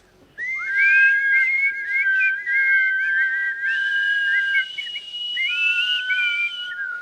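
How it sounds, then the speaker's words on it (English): A melodic human whistle carries a wandering tune for several seconds, loud and close, with brief pauses between phrases. "whistling."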